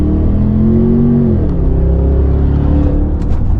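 A 2023 Range Rover Vogue L460 P530 with the 4.4-litre V8 and its exhaust valves open rumbles loud and close in a steady, deep drone that dips slightly in pitch midway and then holds.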